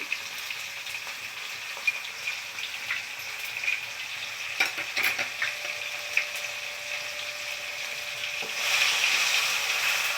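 Spices with salt and turmeric fry in oil for a pabda fish dish, giving a steady bright sizzle with scattered light scrapes and clinks of a spatula, swelling louder near the end, no voices.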